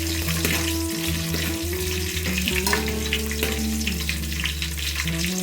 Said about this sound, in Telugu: దీంట్లో 3 పచ్చిమిర్చి కూడా వేసుకున్నాను. ఇది కొంచెం వేగాలి.